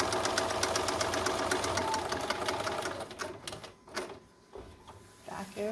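Sewing machine stitching a concealed carry belly band, running in a steady rapid mechanical rhythm for about three seconds, then slowing and stopping into quieter scattered handling noises.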